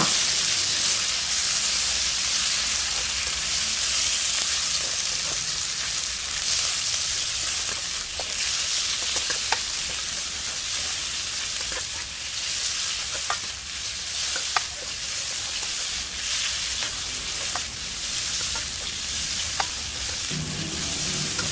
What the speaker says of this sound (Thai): ขั้นตอนนี้เดี๋ยวเราก็จะผัดไปจนกว่าเนื้อหมูจะสุกค่